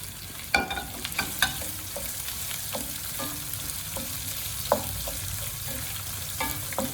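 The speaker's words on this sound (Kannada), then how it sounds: "ಬೆಳ್ಳುಳ್ಳಿ ಸ್ವಲ್ಪ ಫ್ರೈ ಮಾಡ್ಕೊಳ್ಳಿ. ಈಗ ಈರುಳ್ಳಿ ಹಾಕ್ತಾಯಿದ್ದೀನಿ." Crushed garlic and onion fry in oil for hog plum chitranna rice, a soft continuous sizzle broken by scattered spoon scrapes and clinks against the pan, close but fairly quiet, with no one talking.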